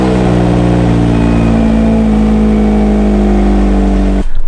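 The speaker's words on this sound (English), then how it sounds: "Cold start for the Fiat 500." A Fiat 500 with a manual gearbox cold-starts and runs at a loud, steady idle with a constant droning hum, close by, then cuts off abruptly near the end.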